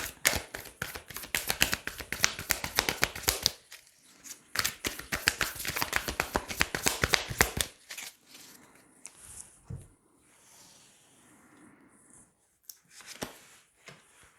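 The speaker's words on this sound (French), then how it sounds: "Allez, on va tirer des cartes." Tarot cards are shuffled in quick, dense riffling bursts at close range, then give way to quieter, sparse card handling and single soft taps as cards are drawn.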